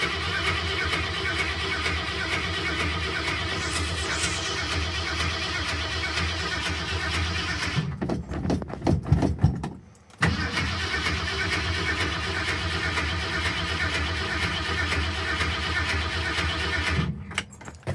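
A Ford Custom 500 engine cranks over steadily with the choke on but no fuel reaching it, a continuous mechanical churn that breaks into a few rough bursts and a brief gap before cranking resumes.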